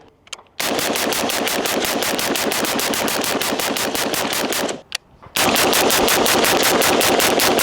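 Rapid semi-automatic rifle fire from a Sig Sauer M400 Tread, a long fast string of loud close shots, a brief pause, then another dense string resuming.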